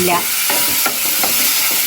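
Chopped onions sizzle steadily in a hot pan while a spoon scrapes and stirs them in short strokes, a dense continuous frying hiss with no voices.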